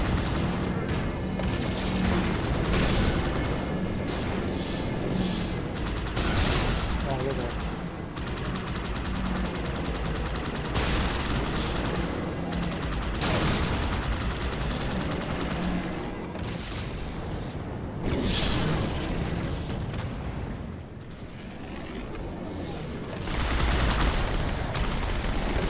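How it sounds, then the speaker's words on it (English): Halo 2 Anniversary co-op campaign combat: dense, continuous gunfire bursts with heavy booming explosions, loud and close, while players talk over the chaos. "Explosion."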